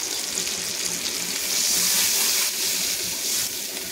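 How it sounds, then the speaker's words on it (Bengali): Water poured into white mustard paste for a sea fish curry, a steady gushing pour that swells midway and then eases, close by with no talking. "তারপর এখানে দিয়ে দেব পরিমাণ মতন জল"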